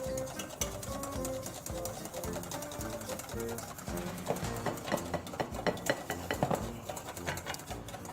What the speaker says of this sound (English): is to whisk the cream lightly and not to make it very, very you see, it's very soft.